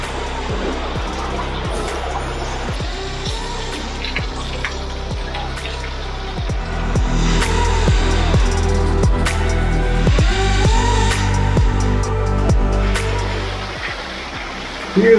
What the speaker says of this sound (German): Oh ja, hier kommt Wasser von der Decke.